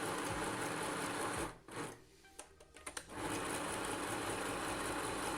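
A LANMAX LMD-505A sewing machine stitching through four layers of fabric, a fast steady mechanical whir that drops out briefly midway and then resumes, close up.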